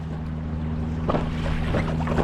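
Speedboat wake slapping against an inflatable Aquaglide Cirrus kayak on Lake Windermere, with a steady low engine drone and water splashes and knocks building after the first second, close and fairly loud.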